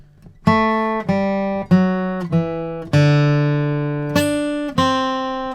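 Seven flatpicked acoustic guitar notes of a bluegrass hoedown melody ring out one after another at an even pace, each sustaining and decaying, played alone and close.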